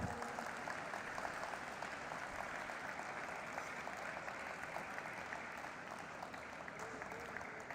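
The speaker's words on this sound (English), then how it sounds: "Let's have a loud round of applause." An audience at a stock exchange listing ceremony for an asset management company claps in sustained, even applause that fills the room for several seconds without a break.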